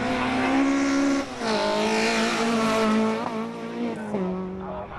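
A Renault Clio rally car on a special stage of the Promenade Stages Rally, its engine revving hard and dropping between gear changes, close and loud, with a short lift-off near the end and no talking.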